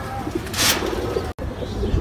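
Pigeons at a pigeon farm in Mirerbagh, Bangladesh, coo softly nearby in a brief low murmuring call, with faint background noise and a short break partway through.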